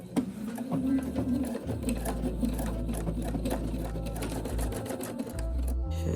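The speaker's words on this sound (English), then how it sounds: "I need to sew like this at an angle" A sewing machine stitches through thick denim on a skirt at an angle, running in a fast, steady mechanical whir with a brief slowdown partway through.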